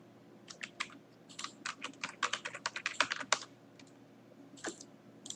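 An email ID is typed on a computer keyboard as a quick run of crisp, close key taps in bursts, with a pause and a few last strokes near the end, in a quiet room.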